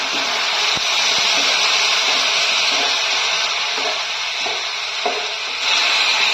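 Mixed sauces are added to a hot frying pan while cooking bread Manchurian, producing a loud, continuous sizzle with occasional scraping and stirring knocks, and no talking.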